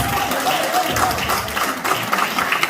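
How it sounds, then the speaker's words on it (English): An audience applauds a performer at a community event, dense continuous clapping mixed with crowd noise and some faint voices or cheering underneath. "Let's give him another round of applause."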